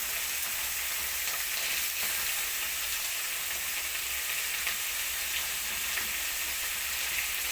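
Sliced potatoes and lightly fried onions in a pan for a potato and pumpkin stir-fry, giving a loud, continuous close-up hiss and sizzle that holds steady throughout with no voices.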